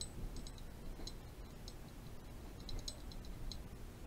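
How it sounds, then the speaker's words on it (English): A machine-shop-made bolt guide bushing in a Valken M17 paintball marker gives faint, sparse ticks and small clicks at irregular intervals over a quiet background, with no voices. "The bushing I had made up sounds like this."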